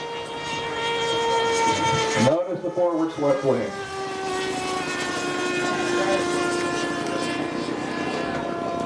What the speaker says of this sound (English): Now Paul is going to bring it down for a camera pass.